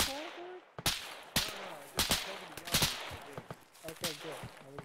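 Sharp gunshots from the video game Arma, in a military operation on the island of Sahrani, crack in an irregular string of single shots and short bursts, loud and close, over a low speaking voice.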